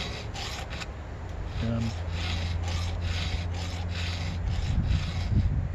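A hand file rasps over the teeth of a rip saw chain in repeated rhythmic strokes, loud and close. A steady low hum sits under it, and a voice speaks briefly.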